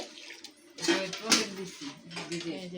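Clay pots of homemade yogurt are lifted out and set down, giving scattered clinks and knocks of pots and utensils at close range, with voices talking over the handling.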